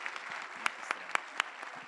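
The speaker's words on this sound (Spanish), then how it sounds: "Un aplauso para todos ustedes." University lecture audience applauding at the close of a talk on police detentions: a soft, steady wash of clapping with a few sharper individual claps standing out, moderately distant.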